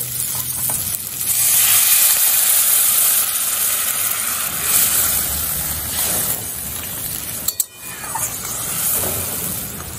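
Hot water goes into spiced potatoes frying over medium-high flame for a katla fish curry, making a loud, continuous sizzle with stirring and a sharp burst near the end.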